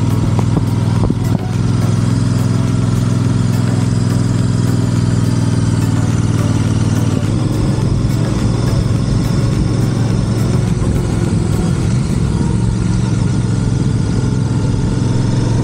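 A motorcycle rides the Mae Hong Son Loop near Chiang Mai, Thailand, its engine a steady loud drone up close that shifts in pitch partway through, joined by constant wind and road rush, with no voices.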